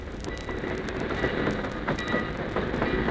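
Steady rumbling train sound effect from an old radio drama, rolling continuously with faint rhythmic wheel clatter and occasional squeal, loud and without speech.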